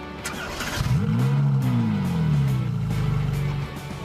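A powerful Ferrari sports car engine revs up and holds a rising, throaty roar, then eases back down, close and loud with no talking.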